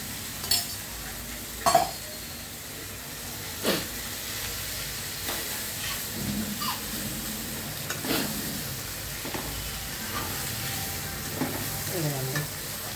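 Bitter gourd cooking in oil for a tamarind curry gives a soft, continuous sizzle and hiss, broken by scattered utensil clinks and stirring scrapes, heard close without talk.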